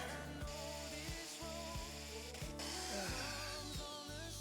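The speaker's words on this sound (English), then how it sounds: "it's been a while since I've drilled into some metal" A power drill bores into metal while fitting a bed fly kit to a Jayco caravan. The motor whines steadily and close, with the pitch dipping as the bit bites in and repeated strain pulses.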